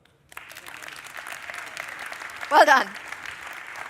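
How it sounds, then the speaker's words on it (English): Applause fills an auditorium at a development conference, a dense, steady clapping that rises shortly after starting and swells briefly near the end while a voice speaks. "So maybe those 5 organizations can get a little applause."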